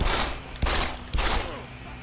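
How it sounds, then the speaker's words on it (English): Gunfire in the video game Deus Ex: Human Revolution, loud close shots in three quick bursts with crackling reverberant tails. "Why don't you die when I shoot you in the head?"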